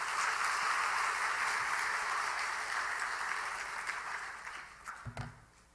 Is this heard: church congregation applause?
yes